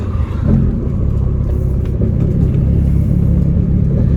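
A 1987 Yugo engine, left sitting for 15 years, idles roughly and steadily with a loud, low, uneven rumble close by, no one speaking.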